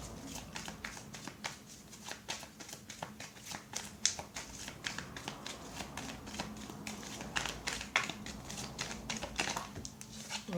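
Tarot cards are shuffled by hand, making a quick run of soft, rapid flicks and riffles that is fairly faint and close, with no talking.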